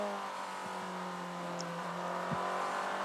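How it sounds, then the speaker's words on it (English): LMP2 prototype race car passing on track during an IMSA WeatherTech Championship race at Indianapolis, a steady engine drone heard at a distance under continuous background crowd and track noise. "the number 52 car that goes past Loris Spinelli is now down in 4th position"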